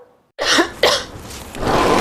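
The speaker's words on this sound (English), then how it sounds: "that cough looks pretty bad" Two harsh, close coughs from a person in a cough medicine TV commercial, sharp bursts in quick succession followed by a rough, breathy throat sound.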